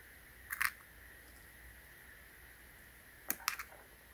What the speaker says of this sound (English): I'm going to use my flathead screwdriver to yank this battery out